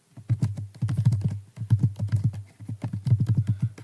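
A computer keyboard is typed on steadily and close up while a question is entered into an online form, giving rapid clustered key clicks broken by two brief pauses.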